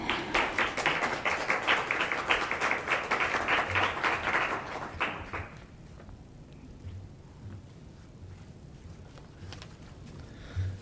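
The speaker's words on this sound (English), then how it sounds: "Let's give them another round of applause" Audience applause at the Freedman Fellows Forum: dense, steady clapping from a crowd for about five seconds, then quickly fading into a quiet room.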